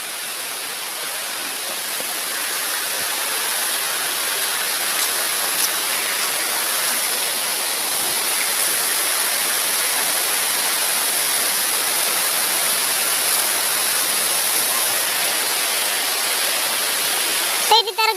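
Water rushes loudly at Harishankar, a dense, steady roar like a waterfall, close and unbroken for the whole stretch.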